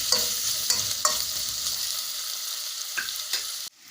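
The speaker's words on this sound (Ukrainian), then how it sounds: "І перемішаю." A spatula scrapes and clacks through sizzling potatoes in a pan, several quick stirring strokes over a constant frying hiss, ending abruptly.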